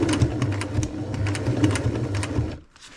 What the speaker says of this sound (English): Just back stitch.